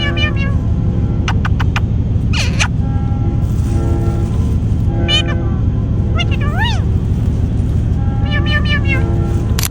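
A parrot imitates a cat, giving a run of rising and falling meow-like calls in short clusters over a steady low engine-like hum, fairly close and clear.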